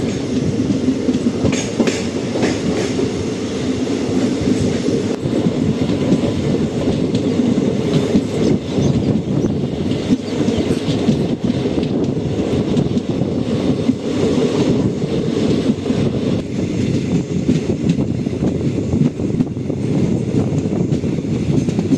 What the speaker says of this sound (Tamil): ஸோ ட்ரெயின் கிளம்பிருச்சு, வாங்க ஜர்னியை கண்டினியூ பண்ணலாம்.